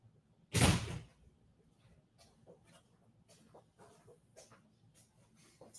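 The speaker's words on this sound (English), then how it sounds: "I had to close the door to the studio." A studio door swings shut with one loud, close thud, followed by a quiet room with faint, scattered small sounds.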